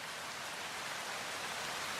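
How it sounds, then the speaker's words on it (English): Steady rain falling outdoors, a soft continuous hiss that stays even and fairly faint throughout with no distinct drops standing out. "We have noise from rain,"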